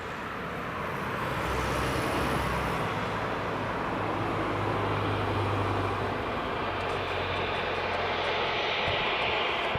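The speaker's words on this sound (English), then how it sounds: "This Jet2 is just backtracking now." A Jet2 airliner backtracking along the runway at Leeds Bradford Airport, its engines giving a loud, steady, broadband roar that holds for the whole stretch with no talk.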